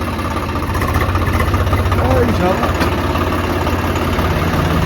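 A tractor engine idles with a steady low chugging throb, close by, while someone speaks briefly over it.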